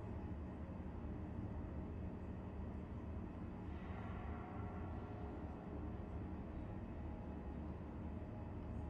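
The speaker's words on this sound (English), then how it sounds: "Tram in transit, is it?" A metro tram in transit in the video game Star Citizen, a steady low rumbling drone of rolling rails and motion that holds constant and loud throughout, with no voices over it.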